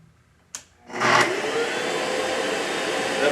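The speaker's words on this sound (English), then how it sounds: "vacuum automatically goes on and then automatically shuts off." Workshop dust extraction vacuum connected to a track saw switches on automatically with a short click, then a steady loud suction roar that stays constant.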